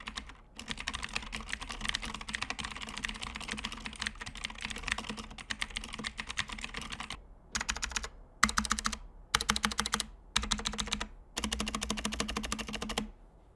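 Rapid, clicky typing on a VicTsing full-size mechanical keyboard in a tenkeyless body, fitted with light 45-gram blue switches. The clatter is close and steady, then breaks into short bursts with brief pauses near the end.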